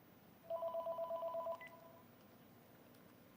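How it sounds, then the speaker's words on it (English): A telephone rings with a rapid electronic trill lasting about a second, a quick string of beeping pulses, fairly faint over a quiet background with no speech. "it's the Moon calling on the phone right now"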